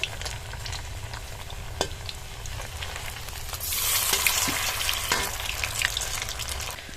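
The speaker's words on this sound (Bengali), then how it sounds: "উল্টে পাল্টে এই বলগুলো ভেজে নিতে হবে।" Maggi manchurian balls frying in hot oil on a medium flame, a steady close sizzle that swells louder partway through, with a few sharp utensil taps.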